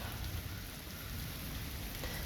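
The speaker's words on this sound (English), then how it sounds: "It's raining. Got some thunder." Steady rain pattering down without a break, with a low rumbling undertone throughout.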